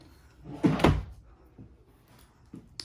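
A drawer slides and bumps shut inside a 2021 Sabre 37FLL fifth wheel travel trailer, giving a short rolling rumble and a thud, then a couple of lighter clicks nearby.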